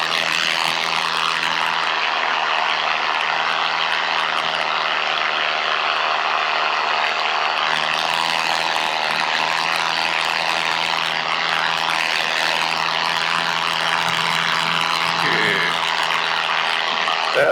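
A paramotor engine drones loudly and steadily in flight over Wisconsin, a continuous close buzzing propeller roar with a stable pitch and no pauses.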